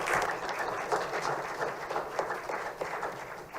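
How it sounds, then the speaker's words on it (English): Applause at a parks and recreation commission meeting, a modest room of people clapping steadily for several seconds at moderate level. "Everybody's getting rounds of applause tonight"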